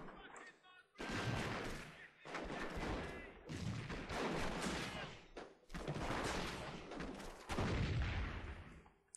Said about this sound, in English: Rifle grenades and Piats.